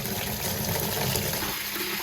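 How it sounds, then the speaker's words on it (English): Hot water gushes steadily from a tap into a bucket, a loud continuous rushing fill with no pauses. "run some hot water in this bucket"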